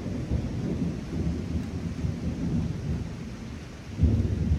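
Deep, continuous rumbling thunder rolls in from an approaching severe thunderstorm that produces a tornado, with rain hissing underneath and a louder crack of thunder near the end.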